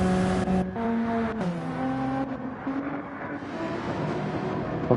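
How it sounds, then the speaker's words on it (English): An Alfa Romeo race car in Gran Turismo 7 races at Suzuka, its engine holding a steady high whine at speed on a straight, with gear changes shifting the pitch. The engine is heard alone. "On board with the Alfa Romeo, you can see it's ridiculous straight line speed as it hunts down that McLaren in front."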